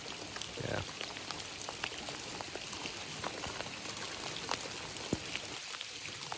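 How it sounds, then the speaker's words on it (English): Hail pattering down outdoors during a moose hunt in British Columbia, a steady dense wash of small ticks and taps on surfaces close by, with scattered sharper hits standing out from the hiss. "it just started hailing"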